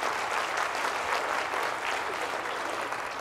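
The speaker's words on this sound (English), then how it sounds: "round of applause for everyone here" Steady applause from a large audience at a Kubernetes keynote, a dense, even wash of clapping that holds throughout without any talk.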